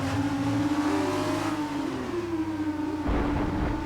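A race car engine in a racing video game, a Trident car, whines at high revs, rising and dipping with gear changes, loud and continuous with a brief burst of extra noise near the end.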